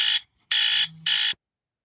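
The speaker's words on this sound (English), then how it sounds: "Alarm was going off." A household alarm sounds three loud electronic beeps with short gaps between them and a faint low hum under the middle beep. Nothing follows but silence.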